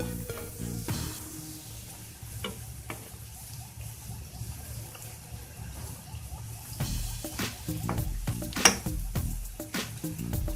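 Semolina pitha frying in hot oil in a pan, sizzling at a low steady level with soft scraping and stirring sounds as the pieces are turned, plus a few brief clinks.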